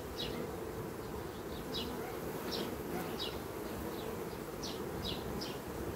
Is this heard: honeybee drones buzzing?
yes